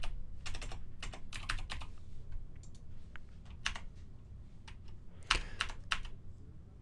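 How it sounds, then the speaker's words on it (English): Code being typed on a computer keyboard: bursts of quick, crisp key clicks separated by short pauses, close and moderately loud, with a heavier keystroke near the end and no talking. "I'm going to type return false a lot."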